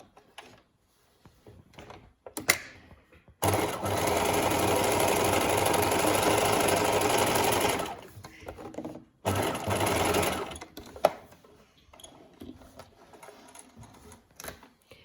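A sewing machine stitches through two layers of pocket bag fabric for a welt pocket, running in one steady burst of about four seconds and then a shorter second run, with quiet handling sounds around it.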